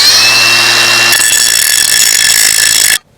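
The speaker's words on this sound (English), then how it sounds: "So, gotta get out the old grinder." An angle grinder works on the lip of a weld for a shallow well, a loud steady high whine with strong tonal bands that shifts pitch partway, runs for about three seconds, then cuts off abruptly.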